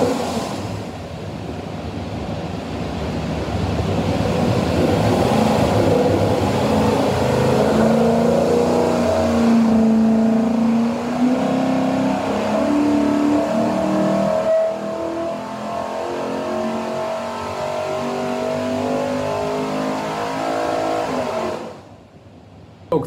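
A stack-injected 427ci small-block Ford V8 with a custom-ground hydraulic roller cam and Shelby valve covers, built for a Superformance GT40, roars on a dyno in one long sustained loud pull before cutting off near the end.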